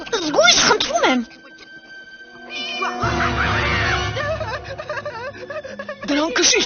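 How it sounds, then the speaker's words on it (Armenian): A leopard cub in a Tarzan cartoon mews like a small kitten, with a few high, wavering cries near the start and again at the end, set against a soft background and other sounds between. "Սա ուղղակի փոքրիկ փիսիկ է։"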